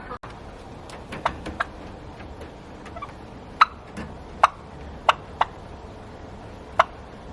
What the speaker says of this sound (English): back to the button quails that I rescued